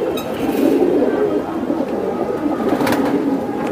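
A pair of Pankhi pigeons coos steadily throughout, a continuous low murmur of soft calls close by, with no clear talk over it.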